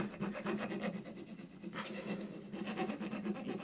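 A hand plane blade rubbed back and forth on a sharpening stone to take off a slight burr, a steady close rasping scrape in even strokes with a brief pause midway.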